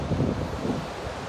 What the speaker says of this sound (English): It's been kind of windy today.